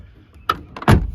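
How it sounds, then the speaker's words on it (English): A 1998 Land Rover Discovery TD5 diesel door opens with a soft click, then swings shut with a solid thump, both close and fairly loud with no talk over them. "The doors open and shut great,"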